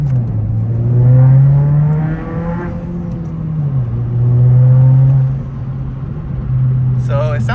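A 2022 Honda Civic Si engine drones low and steady while driving, its pitch rising and falling through two surges of acceleration and settling back, heard close from inside the car.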